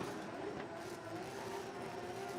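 Rad Industries Gear Wrench Toyota Supra drift car revving at a Formula Drift knockout qualifying event, a dense, steady engine roar heard at some distance, unbroken across the short stretch.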